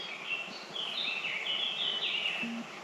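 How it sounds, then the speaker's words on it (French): Birds chirp and twitter busily in a valley during a meal break on a hike, a steady chorus of overlapping high calls that sits fairly close and fills the whole stretch. "Ils sont trop bruyants ces oiseaux."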